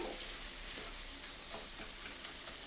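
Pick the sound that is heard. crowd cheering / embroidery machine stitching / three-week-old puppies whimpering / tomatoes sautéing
tomatoes sautéing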